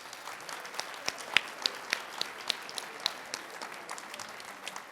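Audience applause at a senior honors night, a steady, fairly soft patter of many hands with sharper individual claps popping out now and then, continuing for the whole stretch.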